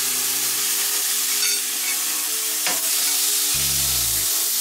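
Prawns sizzle and crackle steadily in a hot pan, a bright continuous hiss with a brief clatter midway.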